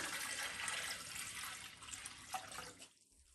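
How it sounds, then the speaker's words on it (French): Water poured into a Thermomix bowl, about 950 g going in as a steady splashing, running stream close to the microphone. The flow tapers off and stops near the end, leaving near silence. "on commence par mettre nos 950 g d'eau, puisqu'on va venir faire chauffer cette eau"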